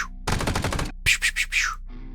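Weapon fire in the video game Quasimorph: a quick rattling burst of automatic shots followed by a few louder, separate blasts, clear and close.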